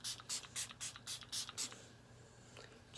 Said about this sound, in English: I'm going to go and spray my face again,